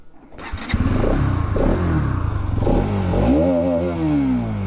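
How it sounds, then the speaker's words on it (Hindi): A 2025 Bajaj Pulsar NS 200 motorcycle engine cranks and fires up, settles into a loud, chugging idle, then revs up sharply with a rising whine before easing back. "चलो अभी पहले साउंड सुन लो इस बाइक की"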